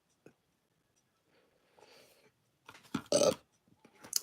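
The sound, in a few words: burp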